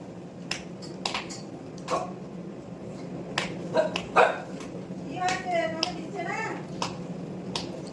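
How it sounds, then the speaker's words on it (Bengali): A dog gives a handful of short, sharp barks and yips at moderate distance while a person talks over them in a kitchen where prawn pakoras are being cooked. "কি কুকু ডাকছে, ও খাবে।"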